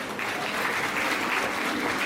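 Audience at a Hindi poetry show breaking into steady, dense applause, a close continuous wash of clapping with no voices over it.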